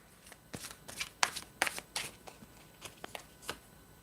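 A deck of playing cards being shuffled by hand, a run of sharp riffling bursts and flicks at close range, fairly quiet overall with no talking.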